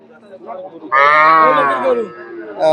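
A cow at a village cattle market moos once, a loud, drawn-out bellow of about a second rising above faint crowd murmur.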